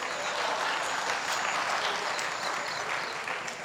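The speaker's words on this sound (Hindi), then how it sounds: "अच्छे शेर पे ताली बजाएंगे तो और ज्यादा पढ़े लिखे मालूम होंगे।" Applause from an audience after a couplet is recited at a poetry gathering: dense, sustained clapping from many hands, steady and fairly loud throughout before easing slightly at the end.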